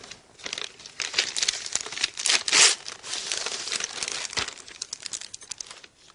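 Paper crinkles and tears as a gift is unwrapped to reveal a drawing, a close, continuous rustling with louder crackling bursts in the middle.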